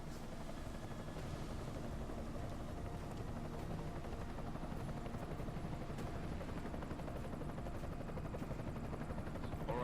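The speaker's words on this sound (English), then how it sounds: "Enemy helo sighted." An enemy helicopter in the video game Deus Ex: Mankind Divided thrums with a steady rotor chop and engine drone, constant and distant-sounding at low volume throughout.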